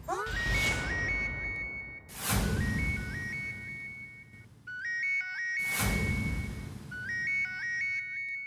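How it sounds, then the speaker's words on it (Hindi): A phone ringtone rings loudly in a repeating electronic melody, sounding in several bursts separated by sharp thumps or hits, with no talk over it. "धनराज सर का फोन।"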